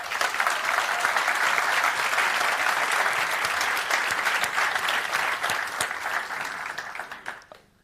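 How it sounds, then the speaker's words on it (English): An audience at a technology conference keynote gives a steady round of applause for the event sponsors, dense and sustained throughout, then fading away near the end. "So just a quick round of applause for all the sponsors."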